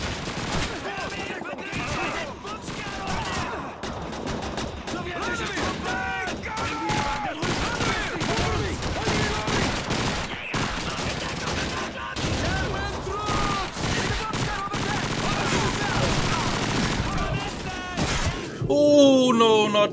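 Dense battlefield gunfire from the Call of Duty 2 video game, rifles and machine guns rattling almost nonstop for twenty seconds, with shouted soldier voices and groans mixed in and a burst of louder shots near the end.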